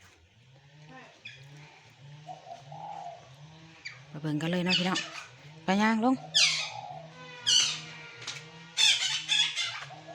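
A dove coos in a steady, repeating low rhythm while someone talks loudly and animatedly over it, with other birds calling faintly nearby.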